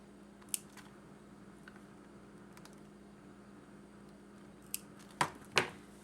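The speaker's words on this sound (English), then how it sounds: "Then I'll trim my threads." Scissors trim threads while making a teardrop burst ring, giving a few short, crisp snips spaced apart with a quick double snip near the end, close against a quiet room hum, no talking.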